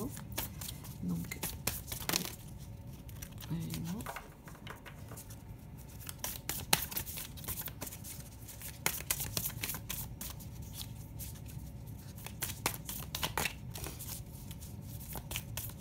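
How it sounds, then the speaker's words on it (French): Animal medicine oracle cards being drawn and shuffled by hand, with repeated crisp flicks and riffles of card stock close up, at fairly low level, alongside intermittent quiet speech. "Je tire une dernière carte, donc c'est... la carte des animaux, les cartes médecine des animaux."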